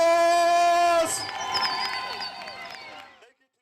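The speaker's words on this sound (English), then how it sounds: "Let's give them a big round of applause." A crowd at an outdoor indigenous games festival breaks into a short burst of applause and cheering that cuts off a sustained voice tone, then fades away over about two seconds.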